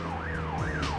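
A police siren in the PS2 game The Getaway wails, sweeping up and down in smooth, steady cycles over a low engine hum, moderately loud and continuous.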